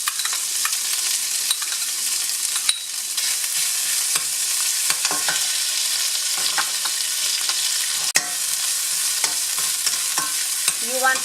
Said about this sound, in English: You want to saute the ginger with the garlic very well until they're golden brown